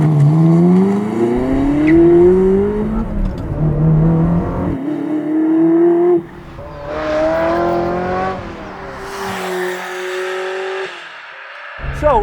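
A 1999 Ferrari 360 driven hard around a racetrack, its engine revving high and sweeping up and down through the gears, loud and close, with a brief tire squeal and no one speaking.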